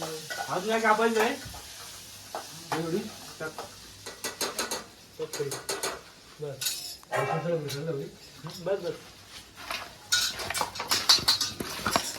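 Hot frying sizzle as chicken is tempered in a hot wok, a metal spoon stirring and clinking against the pan, while someone talks over it intermittently.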